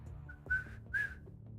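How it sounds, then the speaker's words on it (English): Two short, faint whistle attempts from a person, thin breathy tones that barely form a pitch, separated by a pause over low background hum. "That's about as close as I get to whistling."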